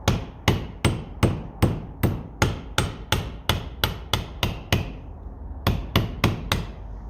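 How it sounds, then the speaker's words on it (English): Light hammer taps in a steady rhythm while overhauling a Lucas D3A4 distributor, about a dozen sharp metallic strikes with a short pause before a final few, close and clear with no talking. "Little tap of a hammer."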